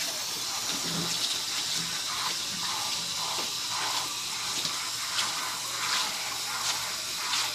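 Running water rinses soap off a dog during a grooming bath, a steady hissing spray with small splashes and uneven surges, close and fairly loud, with no talking.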